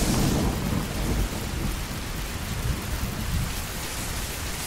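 A Skyrim thunderstorm fills the scene with steady heavy rain hissing, and a deep rumble of thunder rolls beneath it, loudest at the start before settling into a constant downpour.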